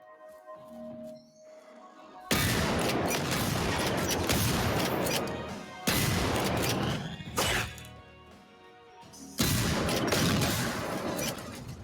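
Loud bursts of gunfire from the video game Generation Zero come in three separate stretches of rapid, repeated shots, with quieter ambience between them.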